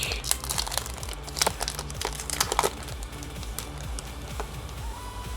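Crinkly plastic foil of a Topps Chrome Marvel trading card pack being torn open by hand, a close burst of crackling and tearing with sharp rustles that eases into quieter handling of the cards.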